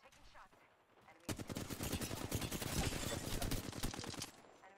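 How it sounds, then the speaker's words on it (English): Rapid automatic gunfire in Apex Legends on the World's Edge map, a fast close burst lasting about three seconds after a quieter lead-in, with a voice speaking faintly. "They spotted me. I'm taking shots."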